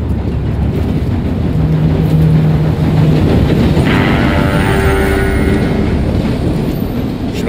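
A steam train in the Red Dead Redemption 2 video game approaches with a constant loud rumbling roar and a drawn-out whistle tone, heard alone without voices.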